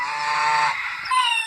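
A backyard goose gives loud, close, harsh honks in two quick bursts, with no voices over it.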